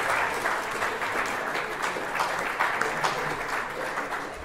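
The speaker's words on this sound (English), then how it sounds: "So, Sophie, receive the applause." Audience applause fills a sixth form prize giving as a student comes up to collect awards, a steady, dense clapping that holds at an even level throughout without gaps.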